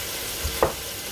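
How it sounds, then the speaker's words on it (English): Zucchini and pasta sauce sautéing in a pan gives a steady soft sizzle, broken by two brief stirring scrapes near the middle of the short stretch. "once you have everything cooking and everything is sauteed and browned"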